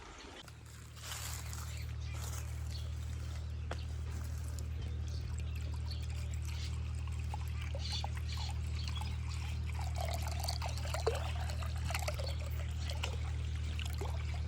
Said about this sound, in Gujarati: કુંડો ભરવાનું ચાલુ.